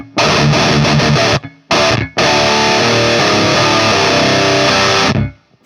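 Electric guitar through an amp rig with reverb plays loud, distorted, tightly muted chugs, then a sustained ringing chord that fades into a short reverb tail, close and alone.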